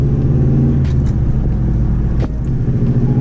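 A car out on a test drive after a short throw shifter install, its steady engine rumble and road noise filling the cabin at close range, with a couple of brief clicks and no talking.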